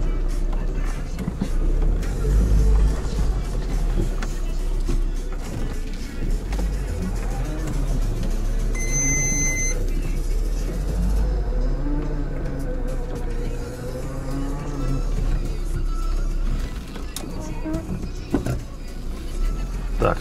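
A Lada Niva drives off-road in first low gear with its differential unlocked, its engine a steady, close, low drone with heavy rumbling and bumps as someone talks over it.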